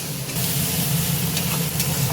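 Onions frying in a pan for a homemade chicken curry, a steady loud sizzle with occasional stirring scrapes, close by and with no talking.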